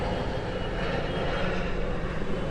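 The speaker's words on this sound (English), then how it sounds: "What's the helicopter doing here?" A helicopter flies overhead as a constant low, rumbling engine drone that holds steady the whole time, moderately loud, with no speech.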